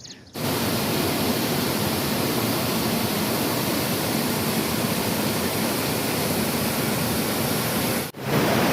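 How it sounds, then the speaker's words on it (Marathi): The Vanlakshmi waterfall near Vangani, a monsoon cascade, roars as a dense, continuous rush of falling water, loud and close, with no voices. "वनलक्ष्मी म्हणून धबधबा आहे आणि तो वांगणीजवळ आहे"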